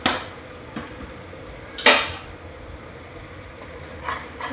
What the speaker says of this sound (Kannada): ಬೆಳ್ಳುಳ್ಳಿ ಎಲ್ಲ ಮಿಕ್ಸ್ ಆಗತ್ತೆ ತಿರುಗಬೇಕು ರೀ.